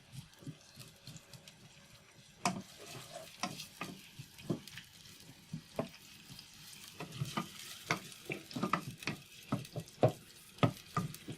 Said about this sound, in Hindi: देखिए प्याज ब्राउन हो गई है।